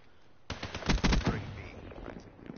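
A burst of rapid automatic gunfire from a weapon in Call of Duty: Black Ops 3 rattles close and loud for about a second, then fades into quieter game noise.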